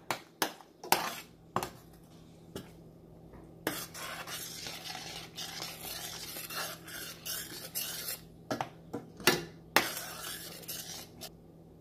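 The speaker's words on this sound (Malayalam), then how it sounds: "എന്നിട്ട് നല്ല ഇളക്കി കൊടുക്കുക." A spoon scrapes and stirs palak paneer in a pan, giving rough rasping strokes broken by sharp metallic clinks and knocks against the pan, close and alone without speech.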